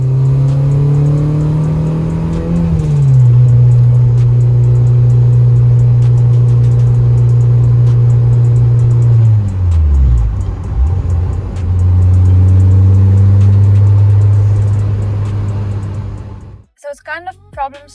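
A Honda K-swapped EK Civic on the move, its engine droning loud and close as it pulls through the gears with rising revs, a drop during a shift, then climbing again before cutting off near the end.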